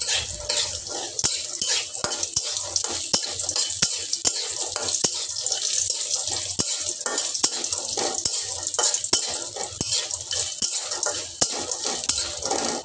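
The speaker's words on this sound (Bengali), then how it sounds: "ডিমের এই তেলেই কুমড়ো বড়িগুলো" Sun-dried lentil dumplings (kumro bori) frying lightly in the leftover oil from eggs, giving a steady close sizzle with scattered clicks of stirring against the pan throughout.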